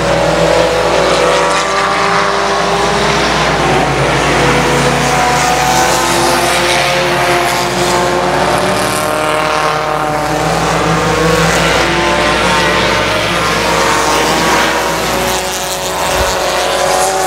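Race cars roar around I-37 Speedway on the final lap, a loud sustained engine drone with shifting pitch as cars pass, steady and dense throughout.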